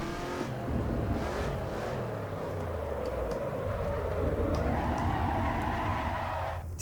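A road car fitted with road tires drifting in the AC EVO racing game, its engine droning steadily and rising in pitch near the end, loud and continuous with no talk.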